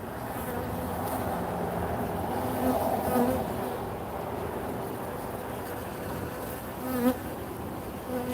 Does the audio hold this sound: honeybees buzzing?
yes